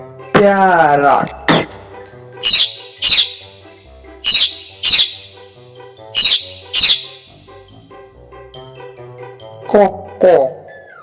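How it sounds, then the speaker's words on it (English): A parrot squawks in a series of short, harsh, bright calls, mostly in pairs with gaps between them, preceded by a longer tonal call at the start. "parrot,"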